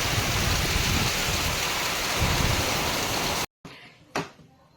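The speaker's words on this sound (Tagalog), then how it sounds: "So, ito po yung bagyo kagabi." Heavy typhoon rain pours at night in a loud, steady hiss close by, then cuts off abruptly, followed by a brief quiet with a single sharp knock.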